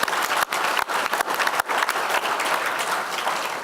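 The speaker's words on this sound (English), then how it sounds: "Y'all give Johnny a round of applause." A breakfast audience at a United Way kickoff event gives a round of applause, a continuous crowd clapping wash with a few sharp gaps, steady and fairly close.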